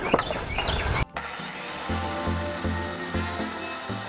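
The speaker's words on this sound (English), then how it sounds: "I set the depth of the saw." A circular saw set to depth cuts wood for a shed truss: loud, harsh whining and ripping noise at first, a sudden brief drop, then a steadier lower grinding hum with rhythmic pulses as the blade runs.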